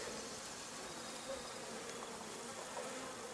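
A steady, dense buzzing of many honeybees flying close by around a hive log, continuous and even throughout with no voices.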